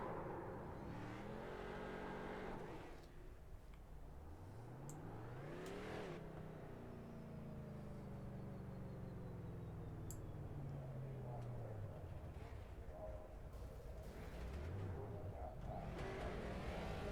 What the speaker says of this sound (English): burnouts coming from Brady there as they celebrate his win